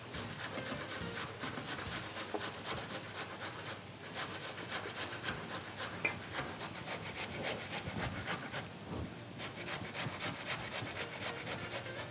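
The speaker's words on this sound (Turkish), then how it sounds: "şöyle rendemizi kalın gözüyle bir güzelce bir şekilde şöyle havuçlarınızı bir rendeleyin" Carrots rubbed against the coarse side of a grater, a steady rasping scrape repeating in quick even strokes, close and continuous with no voice over it.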